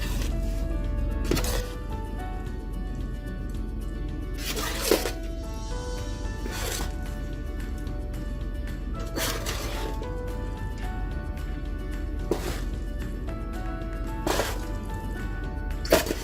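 Oven-baked ground masala chicken dum biryani gently stirred, with soft repeated scraping and squelching of rice and meat in the pot, periodic sharper utensil strokes, close and steady without talk.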